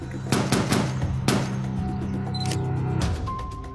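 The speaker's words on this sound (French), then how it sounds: "Le robot tire 15 fois, en plusieurs rafales." Several rapid bursts of automatic gunfire from an AI-controlled robotic gun, loud and sharp cracks in quick clusters with a sustained rumble beneath, no speech.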